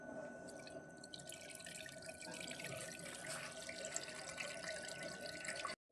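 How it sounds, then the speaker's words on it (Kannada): Soaked basmati rice being washed in water at a sink, with a steady running trickle and soft sloshing and dripping, faint and continuous until it cuts off at the end. "ಹತ್ತು ನಿಮಿಷ ನೆಂದಿದೆ. ಈಗ ಇದನ್ನ ತೊಳ್ಕೊಳ್ಳೋಣ."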